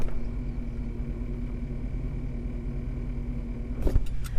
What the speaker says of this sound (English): Can you hear that buzzing noise? That's my new coil.